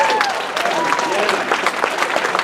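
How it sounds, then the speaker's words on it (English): A convention audience at a comic con Q&A breaks into loud, close applause with scattered cheers, rising over a voice that carries on briefly. "hold the applause for a second, because you'll clap on this"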